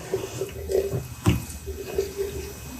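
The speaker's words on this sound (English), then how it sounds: "To prepare for blending, water is added, covering the chopped mushrooms." Water is poured over chopped mushrooms in a container in preparation for blending into paper pulp, giving an uneven splashing gush with a few louder sloshes, close and alone.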